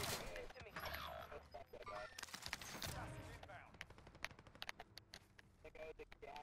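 Rapid gunfire rattles through a Call of Duty: Modern Warfare match in dense, crackling bursts that thin into scattered single shots, with game noise underneath.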